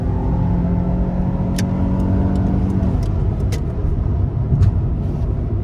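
An imported car's engine drones steadily as it accelerates to 70 on a freeway in power mode, with a rising tone that shifts partway through, under constant road and wind noise.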